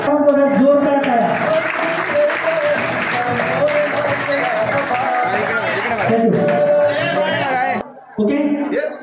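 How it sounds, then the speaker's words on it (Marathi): Applause from an audience at a Navratri Home Minister Paithani game event, a dense sustained clapping mixed with crowd chatter and music, loud and continuous, cutting off briefly near the end. "जोरदार टाळ्या."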